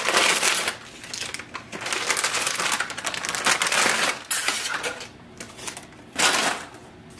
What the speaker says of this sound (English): Next step is to take the ink toner out of this plastic packaging.